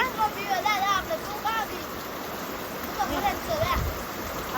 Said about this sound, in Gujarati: જો પાણી ચાલુ થઈ ગયું